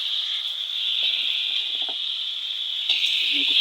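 Steady high-pitched sizzle of native chicken frying in a pan with sautéed aromatics, continuous throughout, with a few faint clinks and scrapes of utensils.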